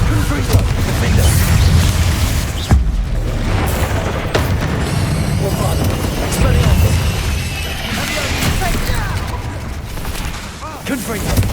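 Confringo spell blasts in the game Hogwarts Legacy, repeated booming explosions mixed with crashing combat effects in a busy, continuous battle, with sharp thumps at intervals.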